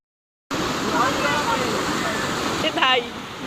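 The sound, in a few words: floodwater rushing in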